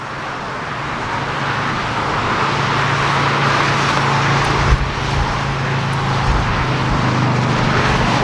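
A car drives along a road, a loud continuous roar of tyres and engine that stays broad and steady throughout, with a faint low hum running beneath.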